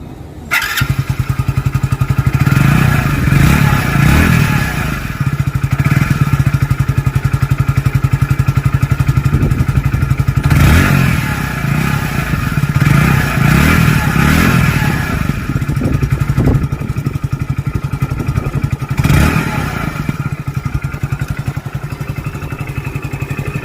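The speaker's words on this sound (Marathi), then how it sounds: "गाडीचा जो एक्झॉस्ट साऊंड आहे इंजिनचा जो साऊंड आहे तो सायलेन्सरचा तो ऐकवतो कसा आहे" A Hero Splendor Plus BS6 motorcycle engine runs loud and close, its steady exhaust thrum rising in a few brief revs along the way.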